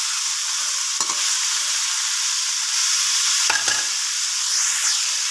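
Squash (kalabasa) is stirred in a cooking pan over steady frying sizzle, with a couple of distinct scraping strokes of the utensil against the pan.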